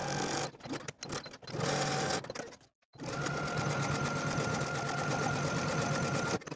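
Sewing machine top-stitching the side and bottom edges of dress fabric, running steadily and close by, with one short stop partway through.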